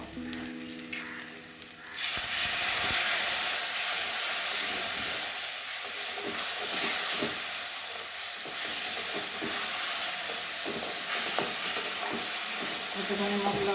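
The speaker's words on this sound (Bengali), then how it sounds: "এবারে হালকা জল দিয়ে মশলাটা কষিয়ে নেবো" A spice paste with Kashmiri red chilli powder sizzles hard in a pan after a splash of water, a loud steamy hiss bursting in suddenly and staying strong, with scraping stir strokes repeating over it.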